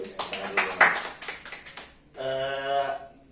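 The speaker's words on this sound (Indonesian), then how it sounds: "Tepuk tangan dulu buat Ruang Literasi." Brief burst of student audience hand clapping mixed with talk, followed by a short voiced sound; the applause is modest and close.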